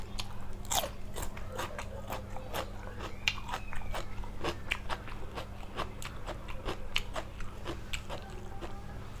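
Someone eats crunchy Thai shrimp salad (larb or nam tok goong), with close, loud, repeated crisp bites and chewing crunches in a steady rhythm.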